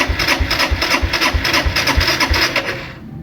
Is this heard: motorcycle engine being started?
yes